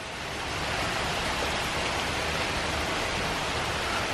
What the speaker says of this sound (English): And it's raining. Good thing we didn't go do anything because it's coming down pretty good.